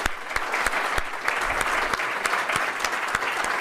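An audience at an executive speaker series applauds John Buckley of Air Liquide: brisk, full clapping from many hands, fairly close, with distinct sharp claps punctuating the steady roar.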